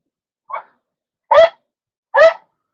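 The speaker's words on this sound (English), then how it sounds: "Both dogs are down here playing. That's the barking." Two dogs playing indoors give three short, sharp barks, the first softer and the next two louder and close, separated by silence.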